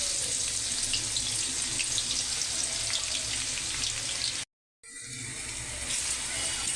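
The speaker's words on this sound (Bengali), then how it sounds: "এখন আমি পেঁয়াজটা বাদামি কালার করে নিব, আস্তে আস্তে ভেজে বাদামি কালার করে নিব" Sliced onions sizzle steadily in hot oil in a wok as they are slowly fried toward brown, a dense continuous crackling hiss broken by a short dropout before resuming.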